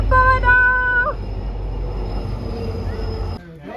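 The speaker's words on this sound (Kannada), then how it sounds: "ಟ್ರೈನ್ ಬರ್ತಿದೆ ಬನ್ನಿ ಸಾಕು" A train horn blares for about a second over a loud low rumble, then a steady mechanical whine continues until it drops off abruptly.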